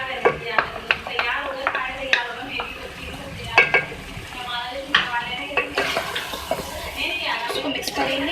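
Potatoes are stirred and fried with beef in a pot for a dhaba-style aloo gosht, with a soft sizzle beneath repeated clacks and scrapes of a spoon on metal, and someone talking over it.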